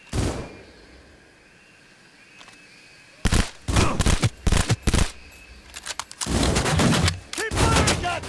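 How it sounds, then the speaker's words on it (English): Bursts of automatic gunfire in the action game Cyberpunk 2077 break in after a quiet opening, a run of loud, close volleys, pausing and then firing again, with shouted voices in between. "Keep firing, goddammit!"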